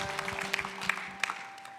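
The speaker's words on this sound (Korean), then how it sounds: "주님께 감사와 영광의 박수를 올려드리겠습니다" A congregation claps together during a Sunday worship service at a Presbyterian church, a steady wash of applause with a few sharper claps standing out, heard at moderate distance over a sustained organ-like tone.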